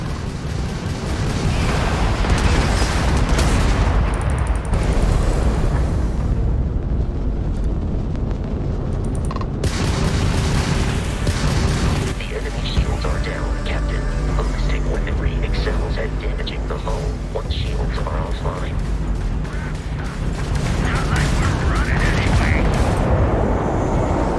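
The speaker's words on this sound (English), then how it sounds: "we can lock in to fire a homing missile" Missile launches and explosions during a Starfield space battle roar loudly and continuously, with dense rumbling blasts and weapon fire layered over game music and a voice talking.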